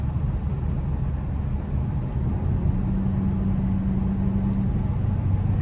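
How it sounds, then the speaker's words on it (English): A 2025 Hyundai Elantra N Line engine pulls steadily after a downshift in sport mode, with a droning note rising in pitch midway through. The sound is continuous and moderately loud, heard from inside the cabin with no talk. "be able to just downshift and kind of give it a pull like that"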